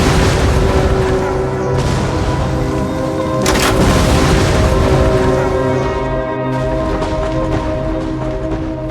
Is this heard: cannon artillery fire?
yes